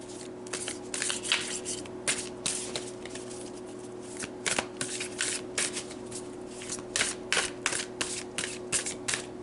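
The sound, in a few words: shuffling and pulling tarot cards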